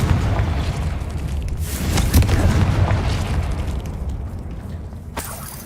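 A Confringo blasting spell detonates in the Hogwarts Legacy video game: a loud, booming explosion with a rumbling low end swells to a peak around the middle, then fades as debris crackles, ending in a brief final burst.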